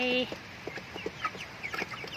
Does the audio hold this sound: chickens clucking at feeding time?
yes